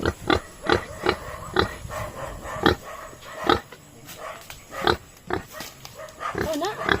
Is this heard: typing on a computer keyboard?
no